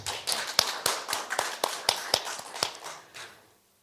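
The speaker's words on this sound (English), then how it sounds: "So please welcome the supporters with a big round of applause." Supporters at an official welcome ceremony for an older persons' rights seminar are greeted with applause: a steady run of sharp, evenly spaced claps, fairly close, that tapers off and stops near the end.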